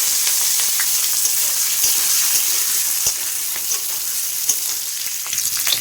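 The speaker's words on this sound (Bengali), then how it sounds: "দেখো এবার আমি এই আলুগুলো দিয়ে দেবো, এটা ভেজে নিব।" Potatoes fry in hot oil in a pan, a dense steady sizzle close up with crackles and stirring knocks scattered throughout, no talking.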